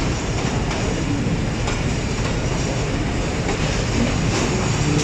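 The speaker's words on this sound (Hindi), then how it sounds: "छः बजकर 33 मिनट पर लसानी express Narowal junction railway station के बाद अब दुमाला रेलवे स्टेशन पर पड़ाव डालेगी" Lasani Express passenger train running toward Dumala station, a loud, steady rumble of wheels and carriages close by with faint rhythmic clatter, continuous with no talk.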